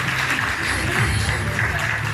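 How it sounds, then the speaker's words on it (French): Audience applauding beauty pageant contestants at a Miss Villeneuve d'Ascq 2022 event, a dense, continuous wash of clapping at full steady volume, with a voice over the sound system mixed in underneath. "Voilà, on les applaudit."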